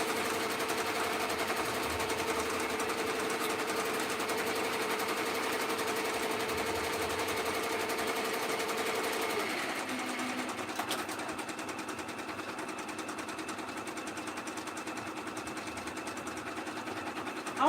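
A sewing machine stitches Etsy orders in a home workspace, running in a steady fast whir for about nine seconds before dropping to a quieter, lower hum that continues to the end.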